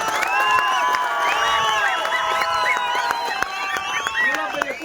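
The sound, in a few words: audience applause for the comrades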